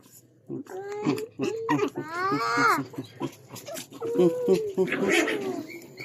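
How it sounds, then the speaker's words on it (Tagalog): A dog whimpers and yelps in short, high bursts close by, with people talking over and around it. "Ito ang aking kaunang aso, si Alexa"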